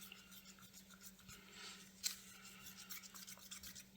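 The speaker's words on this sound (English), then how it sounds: "So I'm mixing up this resin" Epoxy resin being stirred in a cup for jewellery making, heard as a faint, close scraping and swirling with one small tap midway, quiet and without talk.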